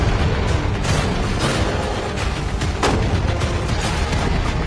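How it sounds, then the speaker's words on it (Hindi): Tank cannons firing rounds at a money-filled container, a loud continuous barrage of booming blasts and sharp cracks with no pauses. "5 टैंक्स पैसों पर निशाना लगाकर 20 राउंड फायर करने वाले हैं।"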